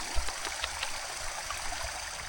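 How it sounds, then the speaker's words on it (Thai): The main stream behind Pan Tai village flows in a constant, close rushing and gurgling wash, with small splashes and trickles rising above the steady water noise. "นี่ก็คือลำธารแม่น้ำสายหลักอยู่ในหลังหมู่บ้านปันใต้พี่น้องเนาะ"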